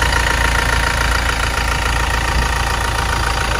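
A 2017 Toyota Fortuner VRZ SUV engine idles steadily with a constant low rumble and hum, no other sounds standing out.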